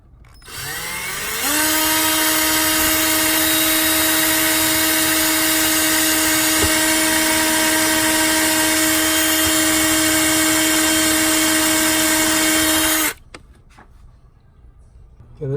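A power drill drives screws into a bathroom vanity drawer, its motor spinning up and holding a loud steady whine for about eleven seconds before winding down, with faint handling after.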